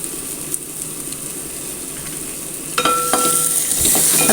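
Tomatoes and curry leaves sautéing in a hot pan for a raw banana curry, with a continuous close sizzle that grows louder and crackles sharply toward the end, with no speech.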